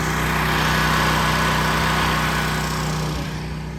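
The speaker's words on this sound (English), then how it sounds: "Got the generator still running." A generator engine drones steadily and loudly nearby with a constant mechanical hum and buzz, easing off slightly toward the end, with no talk.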